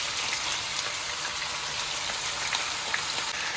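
Chicken pieces sizzle and crackle in hot oil in a wok for a Filipino kaldereta, a steady dense frying hiss heard close up with no talk over it.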